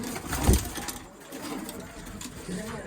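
Pigeons at a rooftop loft coo in low, soft murmurs, with a brief louder burst near the start and faint background noise throughout.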